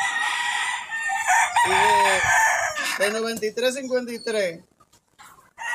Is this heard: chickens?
yes